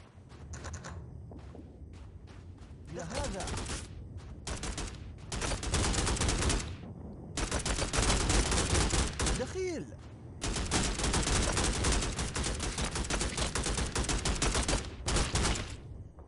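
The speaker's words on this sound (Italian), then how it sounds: "Sparano a Cristo santo questi qua." Enemy gunfire in the video game Strike Force 3, during a mission assaulting an airstrip: loud bursts of rapid shots come in repeated dense volleys with brief gaps between them, with no talk.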